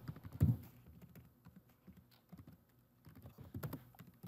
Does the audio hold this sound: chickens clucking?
no